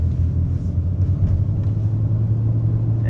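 A 2012 Honda Ridgeline RTS AWD cruises down the road, giving a steady low engine and road rumble, close and continuous, with no other sounds.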